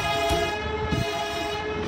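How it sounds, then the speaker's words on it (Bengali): Darjeeling toy train rumbling past nearby, a steady low mechanical drone with a sustained tonal horn layered over it through the short stretch. "এই যে টয় ট্রেন যাচ্ছে, দার্জিলিংয়ের টয় ট্রেন নাম করা"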